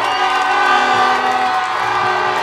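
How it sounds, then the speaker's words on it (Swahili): Crowd at a youth-wing party rally in Tunduma, Tanzania, clapping and cheering steadily and loudly throughout, a dense continuous wash of applause and voices with no pauses. "jipigieni makofi"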